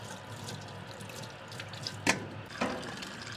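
Tap water runs steadily as fish is washed for a dhaba-style fish karahi, with two brief louder splashes close together near the end.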